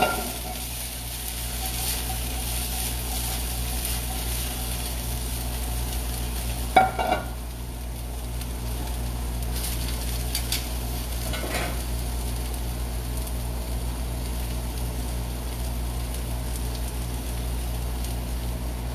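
Green onions sizzle in a pan with a steady low hiss, joined by a couple of brief metallic clinks and scrapes partway through.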